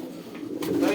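A pigeon coos close by in a low, soft, throaty murmur that swells toward the end, with faint background noise and a little other sound around it.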